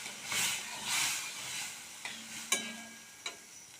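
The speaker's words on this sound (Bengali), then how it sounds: "বেগুন, গাজর সব দিয়ে, ঝিঙে ফিঙে সব দিয়ে কষছি" Eggplant, carrot, ridge gourd and other vegetables are stir-fried in a pan, giving a gentle sizzle with two soft stirring sweeps followed by a few sharp utensil taps, all close by.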